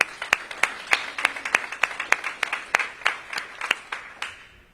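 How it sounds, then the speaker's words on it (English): A small audience at a school-year opening event claps, a short run of distinct, evenly spaced claps that sound close and sparse, fading out after a few seconds. "So let's give them another big round of applause."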